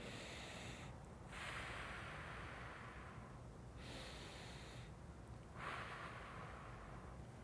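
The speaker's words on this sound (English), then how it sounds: "I'm going to take a few breaths breathing into my pelvic floor" Slow, deep breaths taken into the pelvic floor, with two long, airy inhale-exhale cycles heard up close over a steady low background, no talking.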